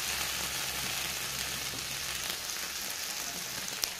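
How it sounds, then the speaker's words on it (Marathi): Ginger-garlic and spices sautéing in a pan, a steady, even crackling sizzle like light rain that continues without a break and carries no speech. "तर हे चांगलं आता परतून घ्यायचं।"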